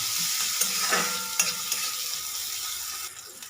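Chopped onion frying in oil with spices in a pan, a steady close sizzle with stirring scrapes and a few brief clinks, fading slightly near the end.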